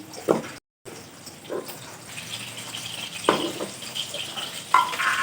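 Potatoes frying in hot oil give a steady, moderate hiss with a few louder sputters and clatters scattered through, heard on their own without speech.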